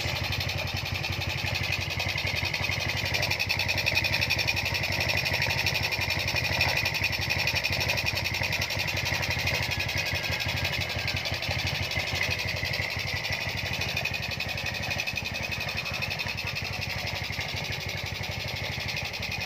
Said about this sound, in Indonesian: suara kasarnya sudah hilang ya teman-teman, mesinnya sudah kembali mulus